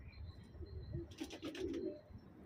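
Pigeons in a loft, soft low cooing and scattered chirps, faint and close, with a brief burst of wing flapping in the middle; no one speaks.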